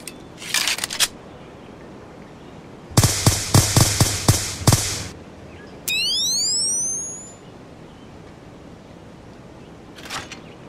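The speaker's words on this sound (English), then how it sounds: "Reload rifle." A rifle reload in the Unreal Engine 4 Division demo kit video game: a rapid run of sharp mechanical clacks and clicks, followed by a rising electronic chime and a faint click at the end, with no one talking.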